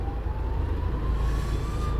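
A police car's siren wails while the car is stuck in a city traffic jam at a junction without traffic lights, its steady tone sounding over a heavy, loud rumble of engines and road noise.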